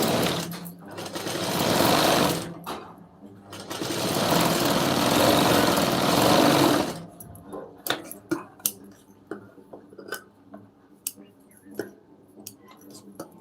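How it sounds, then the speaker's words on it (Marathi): A domestic sewing machine stitches a lined blouse, whirring loudly in two long continuous runs, then falls quiet as fabric is handled with light clicks and rustles. "आता परत आपण एक टीप मारून घेऊ"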